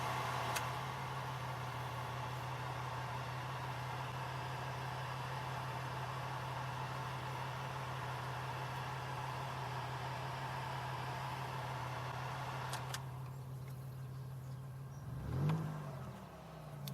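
A 2002 Chevy Malibu engine idles steadily at close range, a constant hum and broadband whir that holds for most of the time before the sound changes and quiets toward the end.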